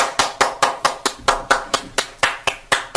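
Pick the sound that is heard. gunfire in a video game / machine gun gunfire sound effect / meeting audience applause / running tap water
meeting audience applause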